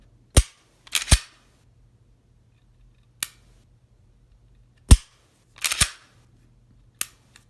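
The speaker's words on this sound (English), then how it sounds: "you dry fire it, of course, check function" Dry-fire trigger clicks from a CZ P10 pistol just fitted with a Theta aftermarket trigger, sharp close metallic snaps arriving singly and in quick pairs with pauses between, alone in a quiet room.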